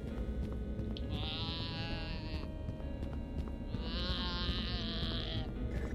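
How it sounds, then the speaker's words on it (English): A goat bleats twice in The Count Lucanor, two long wavering cries standing out clearly over a dense, rumbling game soundscape. "I gotta get this goat stuck somewhere."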